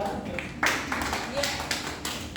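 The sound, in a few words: class applauding for Sabri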